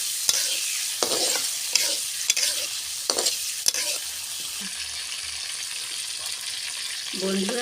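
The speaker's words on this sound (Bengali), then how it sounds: "চিংড়িগুলো ভেজে নেব।" Prawns frying in hot oil in a pan with salt and turmeric, a steady close sizzle broken by sharp scrapes and clinks of a spatula stirring every second or so, without talk.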